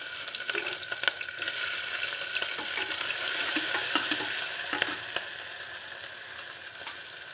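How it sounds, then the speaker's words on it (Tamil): Cashews, onion and green chillies frying in a pan for coconut milk seerakasamba rice, a steady broadband sizzle with occasional scraping stirs and spoon taps, close and continuous with no talking. "அதுலேயே வெங்காயம் பச்சை மிளகா எல்லாம் போட்டுடலாம்"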